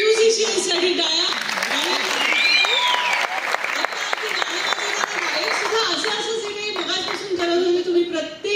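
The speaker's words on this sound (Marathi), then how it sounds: "एकदा सर्व म्युझिशियन्ससाठी टाळ्या." An audience at a live music programme with a synthesizer player applauds the musicians in a dense, sustained burst of clapping. A voice and some tonal sounds carry over the applause throughout.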